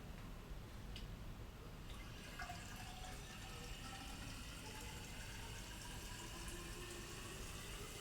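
Water pours out of a glass mayonnaise jar in a steady, faint, continuous trickle and splash that lasts for the whole stretch, with no talking.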